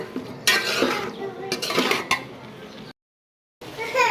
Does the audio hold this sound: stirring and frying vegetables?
yes